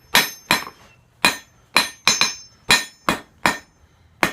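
Blacksmith hammering hot steel on an anvil while drawing out a campfire fork, about ten sharp ringing blows at an uneven pace, each decaying quickly, close and loud.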